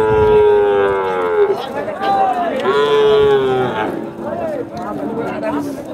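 Young bull calves moo at the Chhatra cattle market in Naogaon, with several long, loud, drawn-out calls one after another, close by, over a background of crowd chatter and voices.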